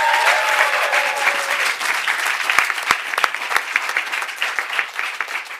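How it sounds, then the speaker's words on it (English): An audience at a London coding bootcamp demo day breaks into loud, sustained applause, many hands clapping steadily for several seconds with a faint tonal hum early on and no talking over it. "Big round of applause."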